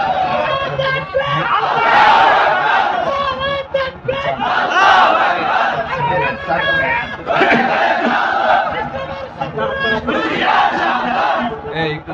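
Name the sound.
crowd chanting slogans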